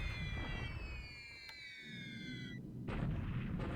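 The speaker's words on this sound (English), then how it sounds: "More bombing at Hong Kong." A bombing attack on Hong Kong plays out in a World War II strategy game as low rumbling booms under falling whistle-like tones, then another burst follows. The sound is faint and muffled, with no talk.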